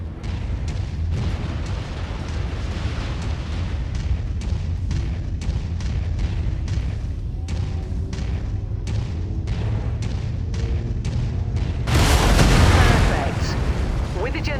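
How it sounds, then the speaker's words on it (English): Generator exploding in MechWarrior 5: Mercenaries combat: a loud broadband blast erupts late in the clip over steady rumbling mech gunfire and repeated shots. "With the generator blown, the turret should be disabled now."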